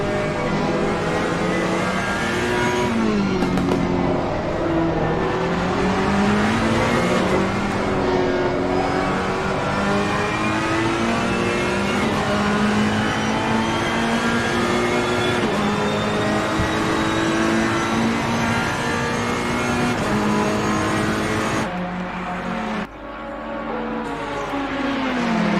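Race car engines roar continuously through a racing video game broadcast, steady and loud, with pitch rising and falling as cars accelerate, shift and battle for position. There is no talk over them.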